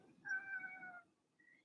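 A house cat lets out one clear, drawn-out meow up close, then gives a faint, brief chirp after it, with no talking.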